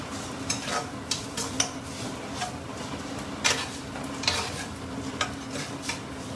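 Pork ribs half-pan-fried in a wok with frying sauce, each piece pressed to brown, making a constant soft sizzle broken by repeated sharp spatula scrapes and taps on the metal, close and without voices.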